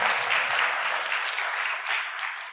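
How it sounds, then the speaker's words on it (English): Church congregation at All Souls bursting into steady applause, a dense wash of many hands clapping that holds evenly for a couple of seconds before tapering slightly at the end. "You can clap to that."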